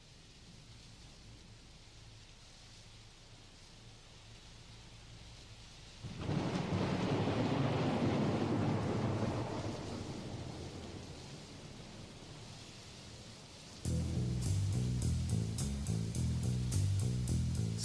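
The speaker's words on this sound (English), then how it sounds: "So we've got the rain" Steady rain hisses at the opening of a song. A loud rolling thunderclap swells midway, then the music comes in over the continuing rain.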